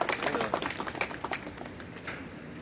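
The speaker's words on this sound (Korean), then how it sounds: "많은 박수 부탁드립니다" Audience applauding at a community award ceremony for volunteer service, a burst of dense clapping that is strongest at the start and then thins and fades over a couple of seconds.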